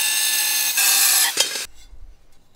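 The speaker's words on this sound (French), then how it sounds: "Prends une meuleuse d'angle avec disque à tronçonner diamanté." An angle grinder with a diamond cutting disc cuts porcelain stoneware tile with a loud, harsh, steady whine for under two seconds. It then cuts off abruptly and leaves a low rumble as the disc spins down.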